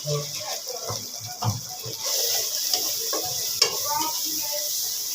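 Ground spices, turmeric, chilli and salt, frying for a beef curry, a sizzle that grows steadier partway through, with scraping stirs and clinks of a pan and a voice talking over it.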